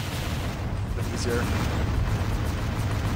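Explosions rumble and crackle steadily from the Descent II video game, a dense, continuous wash of blasts under a voice talking over the action.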